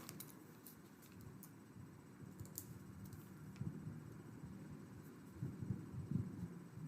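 Typing a note on a computer keyboard: soft, irregular key clicks in quick clusters, close but faint over a low room hum, no talking.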